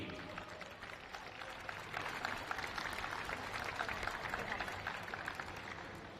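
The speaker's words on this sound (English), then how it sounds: "one big final round of applause for Mini" A crowd applauds at a karting prize ceremony for young drivers. The clapping is faint and distant and runs steadily for several seconds as a continuous hiss, swelling slightly partway through.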